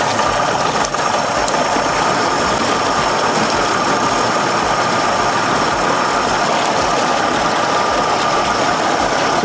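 A Mercury 60 hp outboard motor idles steadily just after starting while in forward gear, giving a constant, loud, close engine drone with no pauses or talk.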